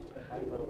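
A crested racing pigeon coos softly and briefly at close range, a low murmuring call that is faint and indistinct.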